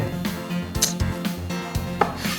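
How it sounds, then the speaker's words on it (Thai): A knife taps rhythmically against a cutting board, slicing a sweet omelette into strips, several quick chops in a row, close and clear. "หั่นไข่หวานเป็นเส้นเลย"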